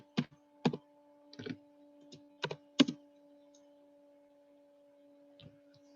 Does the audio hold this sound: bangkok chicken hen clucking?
no